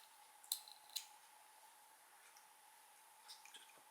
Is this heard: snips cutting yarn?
yes